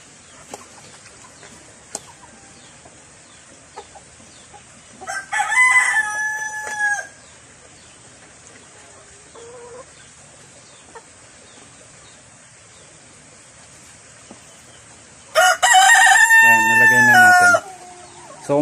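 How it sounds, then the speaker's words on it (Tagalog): Organic chickens on a farm let out two loud rooster crows several seconds apart, with faint clucks and scattered small knocks in a quiet yard between them. "yung mga alaga kong organic chicken sa ibang mga video natin"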